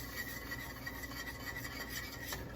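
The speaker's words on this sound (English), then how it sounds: "With a nice steady stream, and whisk them while you go, incorporating them well." Grits whisked into boiling water, a continuous steady scraping rasp of a whisk in a pot, even and unbroken throughout with no voices.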